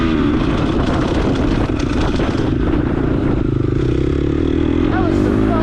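A dirt bike engine rumbles loud and close while riding off-road, with clattering and rattling over the ground and a speaking voice on top.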